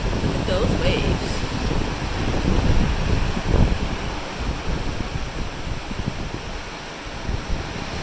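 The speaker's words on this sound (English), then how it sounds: "Those waves." Ocean waves below the cruise ship MSC Meraviglia wash in a steady, broad roar, mixed with wind buffeting the microphone and a faint mechanical hum from the deck.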